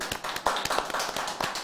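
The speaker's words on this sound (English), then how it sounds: "Let's clap for Doc." A studio audience claps briefly for a doctor on a talk show, a short patter of scattered hand claps and taps lasting under two seconds, moderately close and uneven.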